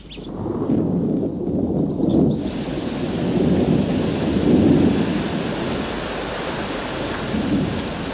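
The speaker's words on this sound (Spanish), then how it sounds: "Pues empieza a llover otra vez" In the Maya the Bee animated series, steady rain pours down under a long rolling rumble of thunder that swells and recedes throughout, with no voices heard.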